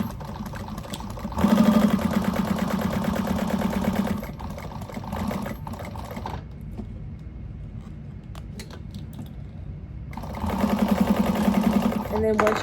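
A sewing machine runs close by, stitching through the gussets of a fabric bag in a steady whir that rises at the start and end, with a quieter stretch between and a person speaking.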